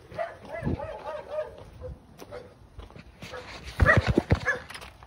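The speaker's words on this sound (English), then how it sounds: "Attack dog." A house dog barks on a home visit: a few loud, close barks burst out near the end after a brief vocal whine, with faint shuffling between.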